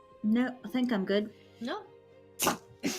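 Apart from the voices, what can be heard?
sneeze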